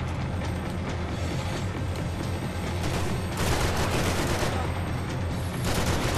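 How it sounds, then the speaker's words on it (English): Gunfire in Max Payne 3, dense rattling bursts of automatic weapons firing almost nonstop, loud and close, growing heavier partway through, with a voice talking faintly underneath. "Shooting him through that little crevice"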